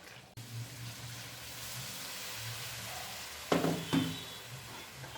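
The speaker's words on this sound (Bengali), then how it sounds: "মাংসটাকে ভালোভাবে কষিয়ে নেব।" Mutton being sautéed with hot water in a pan for mutton curry, a steady sizzle with a couple of louder spatula scrapes and clatters near the end.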